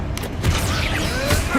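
Confringo fire blast spell in the Hogwarts Legacy video game, a loud burst with crackling, rumbling impacts that trail off over about a second and a half, no speech over it.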